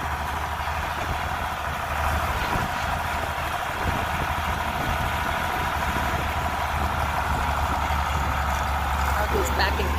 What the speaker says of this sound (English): I'll stop talking so you can just hear the tractor and see it cut.